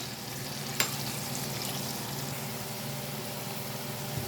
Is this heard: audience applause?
no